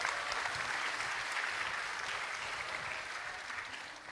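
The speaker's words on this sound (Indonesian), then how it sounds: "Boleh tepuk tangan untuk kita semua." Dense, sustained applause from a large crowd of thousands at a youth political rally for Indonesia's 2024 election, steady and loud throughout.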